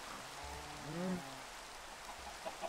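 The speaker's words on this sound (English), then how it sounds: "Oh, and it's raining again." Rain falling in the Minecraft video game, a soft steady hiss of rainfall with a faint low animal-like grunt near the middle and a few light ticks at the end.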